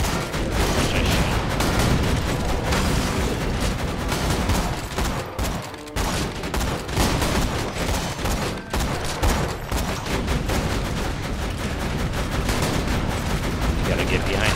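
Near-constant rapid gunfire from Borderlands 2 during the Tiny Tina's Assault on Dragon Keep campaign, with dense bursts and a brief lull near the middle. Players talk over the shooting.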